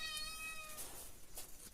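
A house cat gives a brief, faint meow in a home during Dussehra worship in Konkan, a short tonal call fading out with no talk over it.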